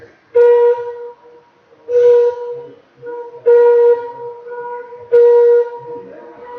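A Kerala flute being played in a workshop, sounding four clear, steady breathy notes in a slow, evenly spaced rhythm, each held about half a second with soft gaps between.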